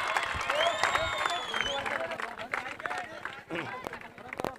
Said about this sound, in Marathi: भव्यासाठी एकदा जोरदार टाळ्या